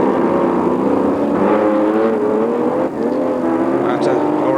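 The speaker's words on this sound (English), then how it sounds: "That glorious Porsche 908 there really being slid around" A Porsche 908 race car is slid around the Montlhéry circuit at a historic Grand Prix, its engine a loud, steady roar with sustained tonal drone and no letup through the whole stretch.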